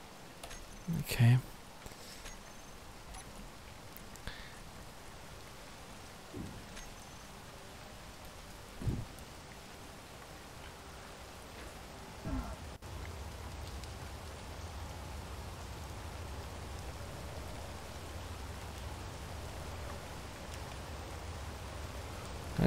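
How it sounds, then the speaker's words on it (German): Soft, steady patter of rain in the video game Space Engineers, with occasional louder drops and thuds, fairly quiet and continuous, the hiss thickening toward the end. "Schon wieder Regen."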